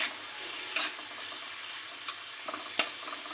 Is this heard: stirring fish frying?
yes